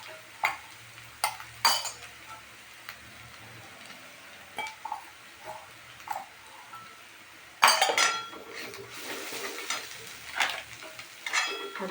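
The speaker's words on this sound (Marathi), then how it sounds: "बघा असं छान तेल सुटेपर्यंत परतून घेतलं." Egg curry masala being sautéed in oil in a pan, a low sizzle broken by sharp clinks and scrapes of a utensil against the pan, with a louder burst of clatter partway through.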